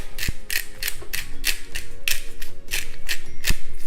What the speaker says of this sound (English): And several grinds of fresh pepper.